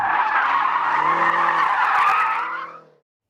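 A BMW M5 slides on a test track with loud, sustained tire squeal lasting a few seconds up close before fading out abruptly.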